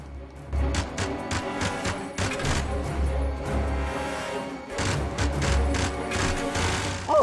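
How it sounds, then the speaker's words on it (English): Machine gun fire in the James Bond: Bloodstone video game during an aircraft attack, rapid bursts of shots broken by thuds and crashes over a rumbling low drone. "Oh, it's a machine gun."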